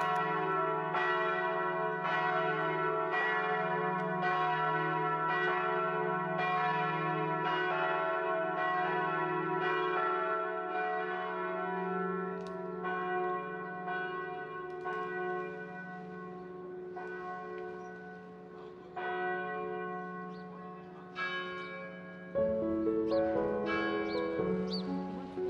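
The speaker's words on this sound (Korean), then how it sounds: "유럽의 종소리는 정말로 아름답습니다." Church bells ring out over a square in Frankfurt, Germany, a dense, sustained peal of overlapping strikes with a steady low hum beneath, loud and continuous with no talking.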